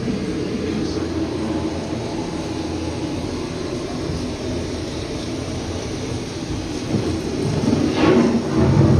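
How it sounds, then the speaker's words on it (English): A loud simulated thunderstorm effect rumbles on the EPCOT Living with the Land boat ride, with sustained low thunder, steady rain-like hiss and a swelling crash near the end, heard alone. "The approaching storm may seem violent and destructive to us."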